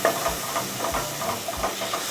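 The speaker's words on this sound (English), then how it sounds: "now we're just going to stir it around and break it up." Bacon stirred and broken up in a pot, heard as a few soft rhythmic scrapes against a low steady hiss of cooking, close and fairly quiet with no talking.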